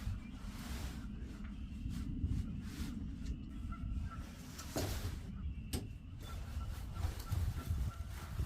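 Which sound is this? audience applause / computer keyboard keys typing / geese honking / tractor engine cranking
geese honking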